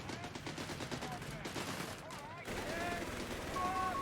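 Gunfire in the real-time strategy game Company of Heroes 3 in a battle with British forces, rapid machine-gun rattle running steadily beneath game voice lines and effects, fairly quiet overall.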